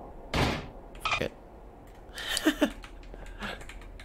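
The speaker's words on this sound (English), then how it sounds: "Hey, sorry about kicking on your door." Several heavy thuds land on a door in the video game Egghead Gumpty, an irregular series of loud knocks and bangs with short gaps between them, close and without talking.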